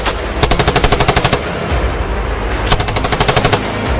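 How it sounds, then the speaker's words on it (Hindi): Rapid bursts of automatic gunfire during an attack on a Pakistani army convoy, loud and close, two long rattling volleys separated by a brief lull. "गोलियां चला रहे हैं।"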